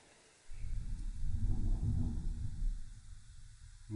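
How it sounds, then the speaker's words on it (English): A low, deep rumble swells suddenly and rolls on for several seconds before cutting off, like distant thunder. "Could be thunder."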